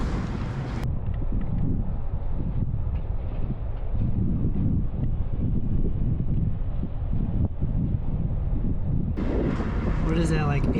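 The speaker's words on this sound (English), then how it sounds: "There's some wind going on." Steady roaring wind buffeting a rider on a KTM 790/890 Adventure R motorcycle on a long highway run, a constant loud broadband rush that stays even throughout, with a brief shift near the end.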